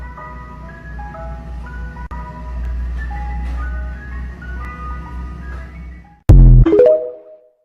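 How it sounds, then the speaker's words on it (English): An ice cream truck plays its tinkling melodic jingle late at night in a residential neighborhood, steady over a low engine hum for about six seconds. A sudden loud, harsh burst follows, then fades. "if there was an ice cream truck that was creeping me out, driving around my neighborhood that late at night"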